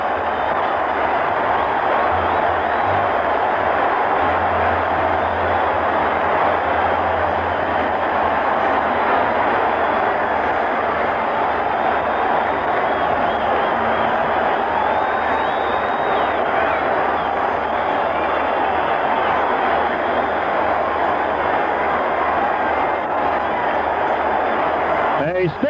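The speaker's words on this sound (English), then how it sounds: "standing ovation here at Yankee Stadium for Cliff Johnson" At Yankee Stadium during the 1977 ALCS Game 2 between the Kansas City Royals and New York Yankees, a stadium crowd gives Cliff Johnson a standing ovation after his home run, a loud, dense roar that holds steady throughout.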